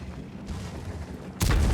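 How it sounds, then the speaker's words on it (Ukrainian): A tank fires a single heavy high-explosive shell in World of Tanks, booming out after a stretch of low rumbling engine noise, loud and close with a lingering roar. "фугасиком я зроблю постріл по танку"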